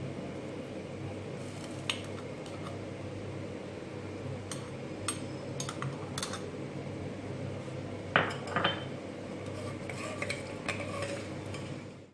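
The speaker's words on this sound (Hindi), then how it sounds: "अब हम इसमें अदरक लहसुन का पेस्ट ऐड कर देंगे" Ginger garlic paste goes into hot oil in a pot for beef korma and is stirred, a metal spoon clinking and scraping against the pot in scattered knocks over a low, steady background hiss.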